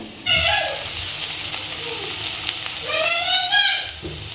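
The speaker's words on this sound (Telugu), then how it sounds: "చిక్కుడుగాయ అంతా కూడా మంచిగా ఫ్రై అయిపోయింది ఆయిల్లో" Broad bean pods sizzling as they fry in oil for a prawn and bean curry, a steady crackle with brief high squeals and louder bursts near the end.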